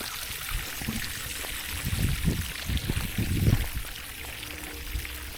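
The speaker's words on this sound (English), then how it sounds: "It's a new kind of spigot here, pumping water down, giving them a fresh drink there." Water pumped from a spigot pours into a carp pond, a soft, fairly distant splashing trickle with a few louder gushing bursts in the middle.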